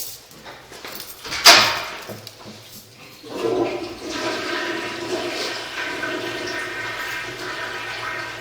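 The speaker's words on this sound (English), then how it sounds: "If you want to flush this first one, you'll see water come in. I'll flush that." A household toilet flushes in a house, opening with a sharp loud whoosh of the handle and rushing water, then settling into a long, steady hiss as the tank refills.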